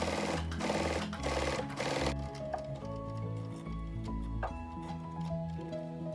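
A sewing machine runs in bursts while stitching a lined fabric headwrap, its motor whirring in steady rhythmic runs, close and clear, with a brief denser stretch at the start followed by continuous stitching.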